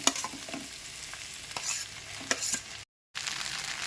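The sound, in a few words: stirring cooked rice into vegetables in a pan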